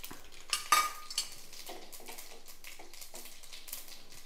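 Small dried red chillies go into hot oil for tempering, with soft crackling and sizzling under clinks and scrapes of a metal pan and spoon, all fairly quiet.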